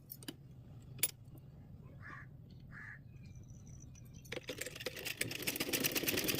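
A sewing machine stitches a blouse belt, starting after a quiet pause with a few small clicks and taps, then running in a fast, steady rattling whir that grows louder toward the end.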